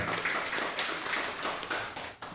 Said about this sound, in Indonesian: Tepuk tangan yang meriah untuk Pak Michael